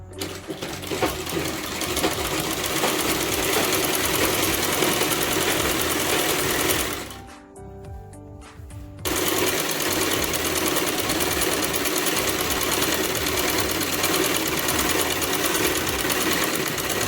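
Sewing machine stitching a belt strip for a salwar, a steady close whirring hum that stops briefly midway and then resumes at full speed.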